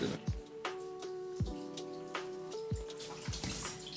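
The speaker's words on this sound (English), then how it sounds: "let me just rinse off my hand again" A kitchen tap runs steadily while a hand is rinsed during seasoning prep for BBQ ribs, with a few dull knocks and soft thumps against the sink, close and moderately quiet.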